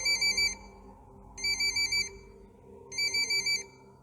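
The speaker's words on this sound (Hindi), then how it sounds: "तभी उस शांति को भंग करते हुए पुष्कर का फोन बजा।" A mobile phone rings with a bright electronic ringtone in three repeated bursts of quick pulsing tones, separated by short silences, clear and close over a faint low background.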